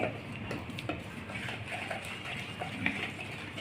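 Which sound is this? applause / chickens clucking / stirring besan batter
stirring besan batter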